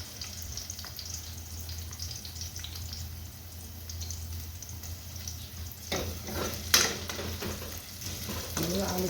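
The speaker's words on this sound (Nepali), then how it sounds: "तेलमा फ्राई हुनु दिने" Potatoes fry in hot oil for a chicken sausage and potato curry, a constant close sizzle with a few clinks and a louder stir-and-scrape burst near the end, without talk.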